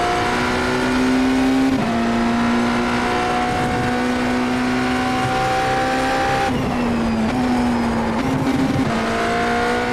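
A BMW M Hybrid V8 LMdH race car in iRacing screams at high revs, its engine tone climbing steadily through each gear with brief dips at the upshifts, loud and continuous with no talk.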